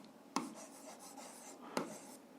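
A pen scratches steadily across paper while algebra problems are worked, a soft continuous rasp broken by three sharp taps spaced through the stretch.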